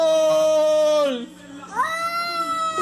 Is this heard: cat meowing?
yes